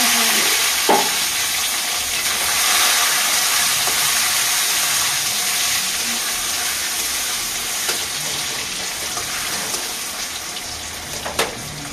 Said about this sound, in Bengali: তেজপাতা, হিং, গোটা গরম মশলা ফোড়নে দিয়ে দেবো।